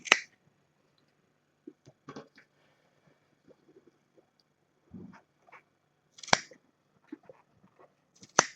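Scissors snip through the yarn of a pom-pom on a crochet blanket, giving a few sharp, close clicks spread out across the quiet with softer handling rustles in between.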